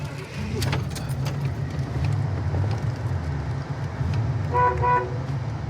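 A 1971 Pontiac Grand Prix's horn toots briefly near the end over a steady idling engine rumble, with faint jingling earlier.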